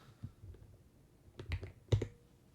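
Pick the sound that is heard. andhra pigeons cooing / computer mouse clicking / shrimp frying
computer mouse clicking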